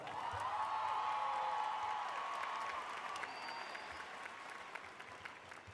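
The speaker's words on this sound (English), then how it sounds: "Give your parents a round of applause." Audience applause at a 2019 high school graduation ceremony, a sustained wash of clapping from a large crowd that swells early and then slowly fades, with a whistle cutting through near the middle.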